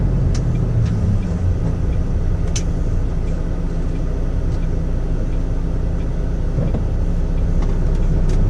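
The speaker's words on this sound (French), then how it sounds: "Il accélère pour passer devant le camion, hein." A car accelerates on the road to overtake a truck, buried in a loud, constant low rumble of engine and road noise with a few faint higher clicks.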